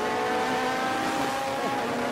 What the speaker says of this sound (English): You see the speed of the prototypes coming by as well.